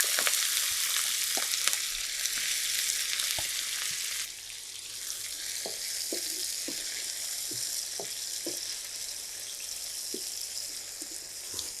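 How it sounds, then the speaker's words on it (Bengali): Plenty of onions fry in oil and ghee for fish rezala, making a loud, hissing sizzle. The hiss quietens slightly partway through, and scattered clicks and taps of stirring break it up. No speech. "আর এখানে দিয়ে দিয়েছি 3 চামচ তেল, আর দিচ্ছি কিছুটা ঘি।"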